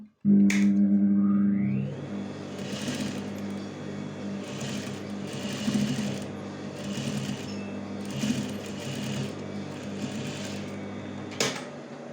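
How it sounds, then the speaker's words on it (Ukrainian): Sewing machine running steadily as it stitches a seam for a folded binding strip edge finish, a continuous close mechanical whir with brief pauses and a few sharp clicks near the start and end. "Прокладаємо строчку, не забуваючи про закріпки."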